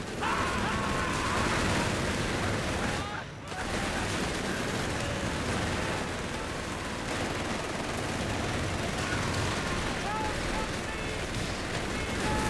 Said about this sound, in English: Here comes another 2-inch barrage